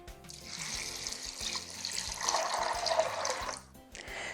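Cold water poured into a crockpot of black beans and other ingredients makes a continuous splashing gush for a few seconds, under a low, steady background of music.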